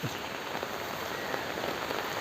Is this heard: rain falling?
yes